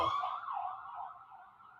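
An emergency siren wails outside a window, a steady, fairly loud tone that rises and falls slightly throughout, with no talking.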